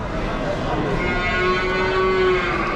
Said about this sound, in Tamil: பார்க் வந்து பார்த்தீங்கன்னா நிறைய மாடு இருக்கும்